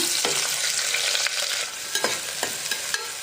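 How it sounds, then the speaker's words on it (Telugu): Onions and green chilies fry in oil in a small pressure cooker for a broad bean masala curry, giving a steady close sizzle with soft scraping and tapping from stirring toward the end. No speech. "ఇప్పుడు ఉల్లిపాయ పచ్చిమిర్చి వేసి ఫ్రై చేసుకుందాం"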